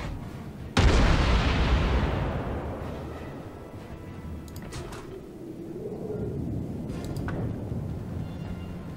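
Bombs from a carrier's dive or torpedo bombers burst in a World of Warships naval battle as an attack run targets a Colorado battleship, opening with a sudden loud boom that rolls off into a long rumbling decay, with faint game effects after.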